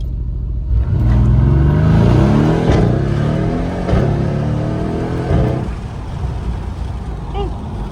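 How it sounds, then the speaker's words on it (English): Mercedes-AMG GLC63s with a twin-turbo V8 and all-wheel drive launching hard, a loud rising engine roar from inside the car that builds through shifts, then eases, with voices talking over it. "Is off a launch because it's a twin turbo V8 with all-wheel drive."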